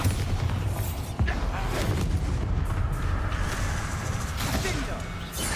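Bombarda spell blasts erupt in the game Hogwarts Legacy, a dense, loud rumble of explosions and booming impacts that continues throughout, with a sharp burst early on, under game voices.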